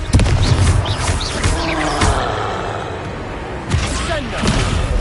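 Confringo blasting spell explosions in the Hogwarts Legacy video game, heavy booming bursts with a dense rumbling low end, followed by a second impact later, amid continuous game effects and voices.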